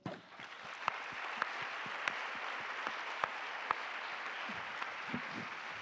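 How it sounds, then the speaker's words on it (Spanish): Audience at a talk on women, press and narco-politics in Mexico applauding in tribute, a quiet, distant wash of clapping sustained evenly across the clip with a few sharper individual claps standing out. "un aplauso"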